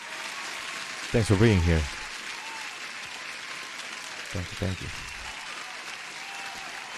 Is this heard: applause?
yes